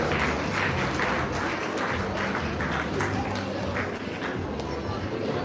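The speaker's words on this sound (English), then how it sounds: "you can give them a round of applause" Audience applause at a Sinhala New Year open house held by the Malaysian Sinhalese Association, steady clapping from a crowd that continues throughout, mixed with a low background hum and some voices.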